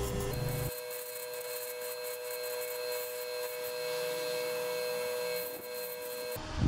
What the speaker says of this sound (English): So I took the sander outside and I used 80 grit